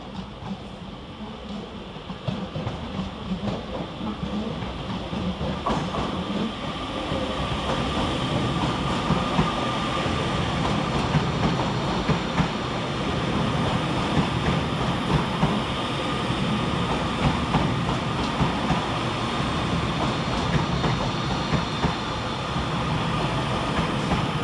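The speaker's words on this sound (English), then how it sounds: "Next arriving out of the fog for Northern is 331030 and 331028." Northern class 331 electric trains roll into Bolton railway station in thick fog, a steady rumble of wheels and rail clatter building and sustained, with no speech.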